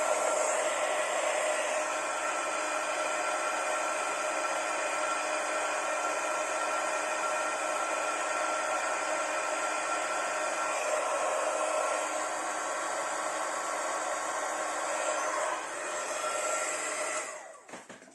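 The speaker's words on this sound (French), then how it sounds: "on prend son Heat Gun pour chauffer" A heat gun blows steadily to melt embossing powder on a handmade Christmas card, a loud continuous broadband hiss with a whining tone that holds unbroken for about seventeen seconds before cutting off at the end.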